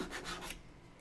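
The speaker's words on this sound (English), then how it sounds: "When you have a sanding stick, it just brings things down evenly." A sanding stick rubs back and forth across a sci-fi computer prop, giving close, steady scratchy strokes in a few rhythmic passes that soften toward the end.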